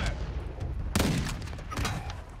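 Gunfire in the video game Call of Duty, a sniper rifle with incendiary rounds: a steady crackle of shots with one sharp, loud burst near the middle, no talking over it.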